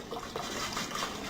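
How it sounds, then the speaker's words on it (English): Broth poured into browned butter and flour for gravy, a brief close gush and bubbling of liquid filling a pan, steady and fairly quiet. "I'm going to pour in the broth, and it's supposed to do this."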